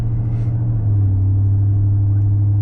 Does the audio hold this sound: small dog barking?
no